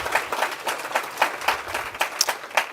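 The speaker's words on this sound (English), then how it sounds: "Let's just get a round of applause again." Audience applause fills a conference hall at an annual university event on race and ethnicity, a steady wash of many hands clapping at moderate loudness with no voices over it.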